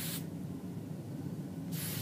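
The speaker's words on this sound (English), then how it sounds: "once I have my hair all placed where I want it, I'm going to spray." Hairspray hissing out of an aerosol can onto styled, hot-rolled hair in one steady, close spray of about one and a half seconds.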